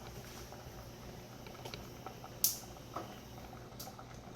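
A canning pot bubbles quietly on a stove with soft, continuous boiling and a few light clicks and taps, no voices.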